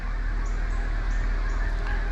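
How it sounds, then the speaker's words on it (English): Many waterfowl honking and calling continuously at Fort Cobb Lake, a dense distant chorus over steady outdoor background noise. "I don't know if you can hear all those ducks."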